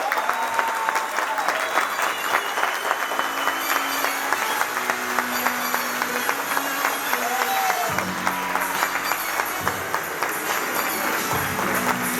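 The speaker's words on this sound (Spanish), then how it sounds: "ustedes me lo reciban con un gran aplauso" Sustained applause from a large audience at a business leader's event in Cali, a dense steady clatter of many hands lasting throughout, with music tones rising faintly underneath toward the end.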